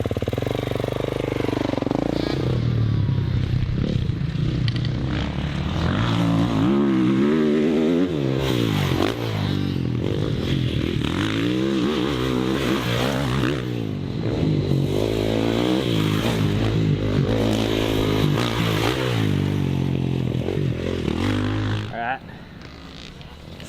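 Kawasaki 450 motocross bike ridden hard, its engine loudly revving and rising and falling with gear changes and intake roar through the airbox, with talking heard over parts of it.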